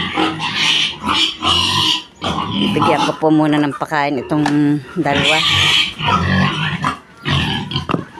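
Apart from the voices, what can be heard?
pigs grunting in a piggery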